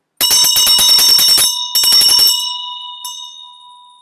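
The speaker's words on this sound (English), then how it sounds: "Now let's ring the bell for all the champions who are saving the day." A bell is rung in a ceremonial tribute, a rapid run of bright metallic strikes for about a second, a short pause, a second burst, then a long ringing decay and one last light tap, loud and close with no talk.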